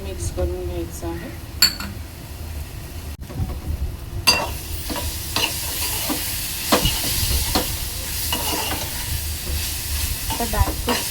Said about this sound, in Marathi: आता ड्रायफ्रूट्स टाकून मी 2 ते 3 मिनिटं परतून घेतले आहे